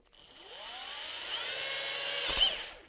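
A handheld power drill spins up and bores a hole for a candy booth, a rising whine that holds steady for about two seconds before a brief bite and spin-down, close and alone.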